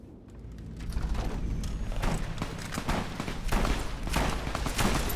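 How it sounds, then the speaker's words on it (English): Rapid gunfire in the video game Fallout: New Vegas crackles in dense, irregular bursts, sharp cracks layered over a constant rumbling background, sounding like a sustained firefight at moderate distance. "You hear that? Fucking gunfire."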